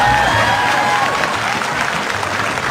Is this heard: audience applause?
yes